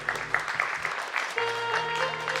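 An audience at a Kanuda Group community event applauds with brisk, fairly close clapping that carries on steadily, while someone speaks faintly underneath.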